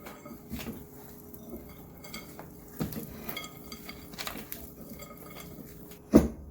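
Bread dough with walnuts and cranberries is mixed in a bowl, heard as faint, close clinks and knocks of utensils against the bowl at irregular moments, ending in one sharper knock, with no speech.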